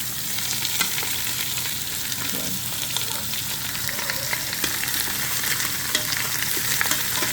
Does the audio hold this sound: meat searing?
yes